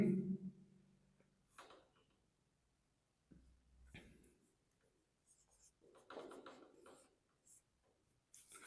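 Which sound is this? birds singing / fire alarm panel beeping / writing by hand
writing by hand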